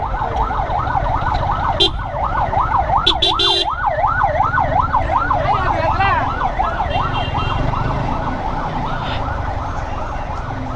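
Ambulance siren wailing in a continuous rising-and-falling cycle amid heavy, jammed night traffic, loud and close over a steady road rumble, with a few brief horn blasts cutting in.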